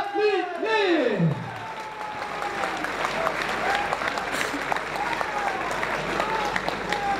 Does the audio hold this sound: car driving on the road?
no